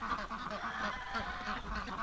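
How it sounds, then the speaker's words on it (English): Dalmatian ducks and geese on a snowy winter farm near a barn call repeatedly, overlapping honks and quacks carrying from a short distance at a soft but steady level. "look at those Dalmatian ducks down there"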